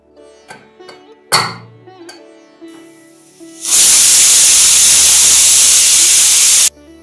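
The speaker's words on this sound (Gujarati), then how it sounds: "3 સીટી વાગી ગઈ છે અને હવે આપણે આને રેસ્ટ કરવા માટે મૂકીએ છીએ" A pressure cooker lets off steam while cooking a bottle gourd curry, starting with a few sharp clicks and knocks, then a loud, steady, broadband hiss lasting about three seconds before it cuts off abruptly.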